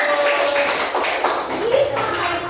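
Students in an elementary school classroom clap together after a group presentation, a dense patter of small hands lasting a couple of seconds, with voices mixed in underneath.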